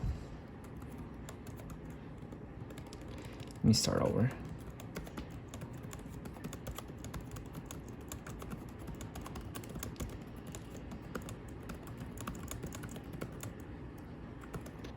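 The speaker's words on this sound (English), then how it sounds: "Now let me check the keyboard." Rapid, steady clicking of keys typed on a Lenovo IdeaPad 3 Chromebook 11.6-inch laptop keyboard, close by, with a brief spoken remark partway through.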